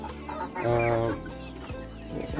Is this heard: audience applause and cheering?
no